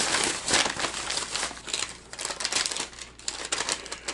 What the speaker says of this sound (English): This is for everyone who loves the crinkling bag noise.